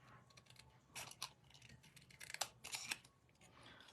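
Scissors cutting cardstock for a handmade card, a few quiet, close snips and crunchy slices in short clusters, with no talk.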